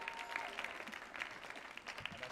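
An audience at a live roots music concert on a stage claps in a brief, fairly faint burst of scattered applause.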